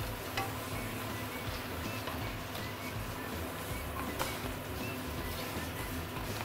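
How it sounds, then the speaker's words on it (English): Prawns being stirred in a pan of thickened salted egg cheese sauce, giving a steady, dense sizzle and bubbling with faint scraping clicks throughout, close and continuous with no talk. "Now this is the time where we can actually add in the prawn. Give it a few stir and it is done."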